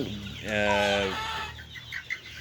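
A broiler chicken on a sand-litter farm gives a loud, drawn-out close cluck, followed by softer scattered clucks and faint background farm noise.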